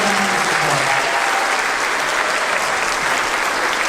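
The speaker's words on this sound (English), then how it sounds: "please give them a round of applause" A school winter concert audience at Wellesley Middle School claps steadily and loudly, a dense, even wash of applause that holds throughout, with a voice faintly underneath at the start.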